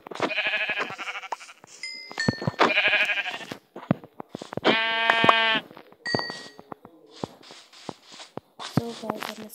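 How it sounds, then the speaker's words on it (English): Sheep in the Minecraft video game bleat in several short separate calls, mixed with soft game clicks and footsteps, fairly close and clear with no talking. "I just saw a lot of sheep here"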